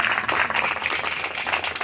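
A church congregation claps loudly and steadily in praise during a worship service, dense applause that continues throughout without a break.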